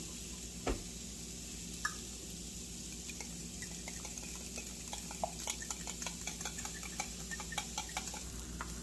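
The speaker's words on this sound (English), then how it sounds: "I have 2 eggs I'm going to whisk up." Two eggs whisked with a splash of heavy whipping cream, a quiet, quick run of light clinks and taps that starts sparsely and then becomes a steady, rapid ticking near the end, with no talking.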